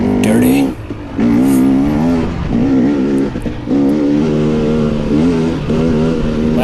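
A 2022 KTM 300 XC-W dirt bike revs hard during a six-hour charity Ironman enduro race, its engine note rising and holding in loud, sustained bursts with brief dips between, close to the rider.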